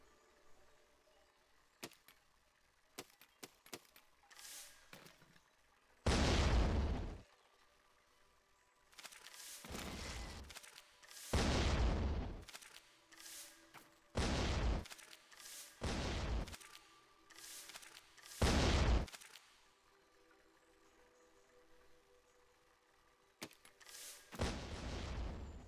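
Rockets explode in the Besiege building game: a string of loud, booming blasts arrives in bursts, some close together and some spaced apart, with faint clicks and thuds between them.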